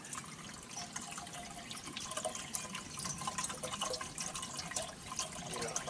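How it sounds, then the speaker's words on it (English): Water poured into a junkyard car engine suspected of a busted piston or bad wrist pin, a faint continuous trickling and splashing that stays steady throughout. "Let me pour some more water in it,"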